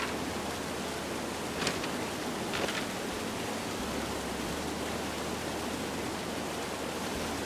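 Waterfall in the video game Firewatch, a steady, even rushing hiss of falling water that continues unbroken throughout, with a couple of faint brief rustles on top.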